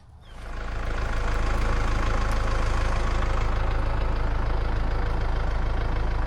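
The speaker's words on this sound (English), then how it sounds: "we're just going to give it a little test pull with the tractor" A tractor engine starts up and settles into a steady, heavy rumbling idle, loud and close, running continuously with no voices.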